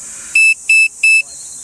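Electronic tire pressure monitor alarm sounding three identical short, loud beeps at a steady rhythm, each about a fifth of a second, with a faint background hiss between them.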